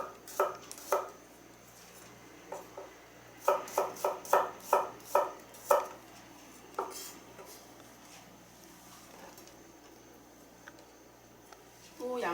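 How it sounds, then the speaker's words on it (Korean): Knife slicing garlic cloves on a cutting board: a series of crisp, close taps, some isolated and then a quick run of about eight in steady rhythm, over a quiet kitchen hum. "마늘을 다지면 지저분해지기 때문에 그냥 이렇게 편으로 썰어주세요"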